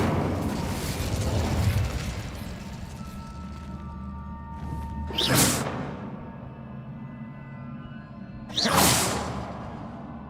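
An Incendio fire spell from the Hogwarts Legacy video game gives two sharp, bright whooshes a few seconds apart, each flaring quickly and then fading over a low, steady in-game ambience.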